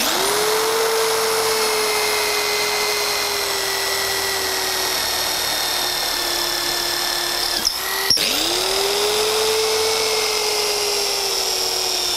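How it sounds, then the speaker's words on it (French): An electric drill bores holes into the corners of wooden pieces for a palaver chair, a loud steady whine that briefly stops and restarts near the end, with no talking. "une perceuse d'abord pour faire des trous dans les angles"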